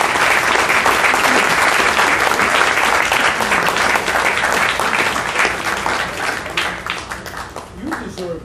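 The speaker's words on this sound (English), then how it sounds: "You deserve the applause" A close, loud audience claps through the whole stretch after the first act of a Shakespeare performance staged at a bar, then the clapping thins and fades at the end.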